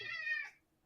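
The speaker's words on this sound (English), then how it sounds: "I can hear him meowing" An orange cat lets out a single short meow, fairly faint and close, ending in quiet.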